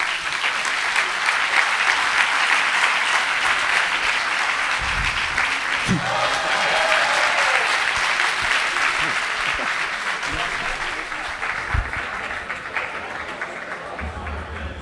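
Sustained audience applause for round-table speakers at a staged discussion event, steady and dense throughout with a few louder claps and faint voices underneath.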